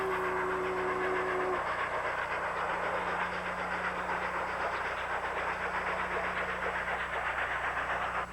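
Union Pacific 8444, an oil-burning steam locomotive, runs with a train in a continuous rolling rumble and rhythmic clatter of wheels, a brief whistle-like tone at the start, steady and moderately close.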